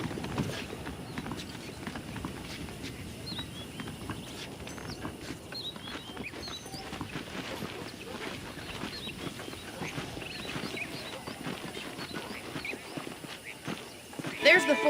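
Horse hooves clip-clop at a steady walking pace in the video game Red Dead Redemption, a rhythmic, moderately quiet stream of hoof taps with faint ambient outdoor sound and a louder burst at the end.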